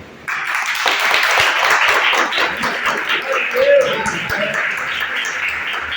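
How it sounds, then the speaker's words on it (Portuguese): A church congregation claps together in praise of Jesus, a sustained burst of many hands starting abruptly and holding steady, with a voice talking over the clapping. "Irmãos, me dá uma salva de palmas para o Senhor Jesus"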